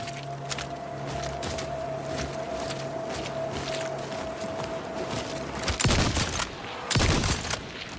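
Gunfire from the Hunger video game trailer: a quiet bed of scattered clicks and mechanical sounds, then two loud bursts of rapid shots close together near the end.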